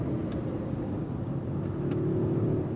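An Audi RS3 with a five-cylinder engine drones steadily under acceleration, heard from inside the car as a constant, dense mid-pitched engine roar with no speech.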